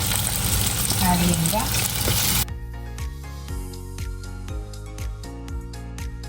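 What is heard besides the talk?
ginger and green chilli sautéing in a pan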